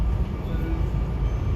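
A SEPTA regional rail train rides toward Doylestown, its low, steady rumble of wheels on track and interior hum filling the cabin, continuous and close, with no voices.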